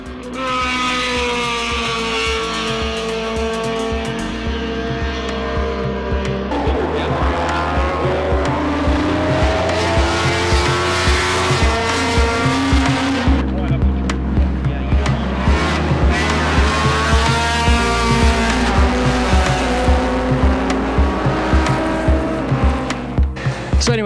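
Loud race car with a new header running on a track, its engine droning hard and continuously with strong low harmonics and repeated shifts in pitch as it accelerates and backs off, close and dominant.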